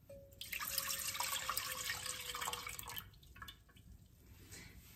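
Milk pours into a medium saucepan for an orange custard tart recipe, a steady close liquid splash for about three seconds that then tapers off into a few faint drips.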